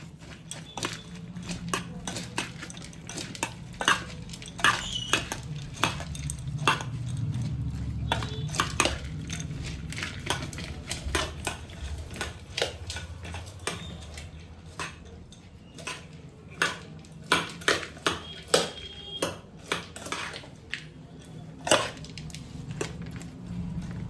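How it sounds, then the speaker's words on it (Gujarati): Bhel mixture with tamarind chutney being stirred in a bowl: a steady series of sharp spoon clicks and scrapes over soft rustling of the dry mix, close and moderately loud, with no talking. "હવે આપણે અંદર હલાવી નાખીશું"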